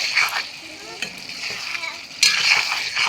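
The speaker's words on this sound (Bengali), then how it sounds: "এবার আমি আরও পাঁচ মিনিট কষিয়ে নেব" Fish bone curry with chopped garlic leaves being sautéed and stirred in a pan, a steady close sizzle with scraping stir strokes and a louder surge of frying near the end.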